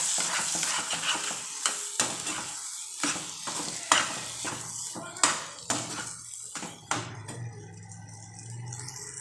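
A utensil scrapes and stirs in a pan with a steady sizzle while salt is mixed into a matar paneer masala, with several sharp clinks against the metal, close by and fairly loud, with no talking.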